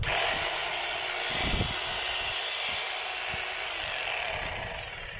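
An electric chipping hammer, freshly fitted with a replacement armature, O-ring and cap, runs with a loud, steady high-pitched whine and hiss that holds throughout and eases slightly at the end.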